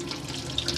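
Cold water runs from the tap of a Coachman Laser 675 caravan in a short, soft, steady stream heard up close, with no talking.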